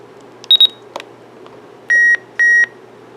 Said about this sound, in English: it's the button beeps